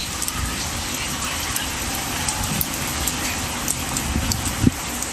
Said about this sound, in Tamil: பலத்த காற்றுடன் ஆலங்கட்டி மழை பெய்தது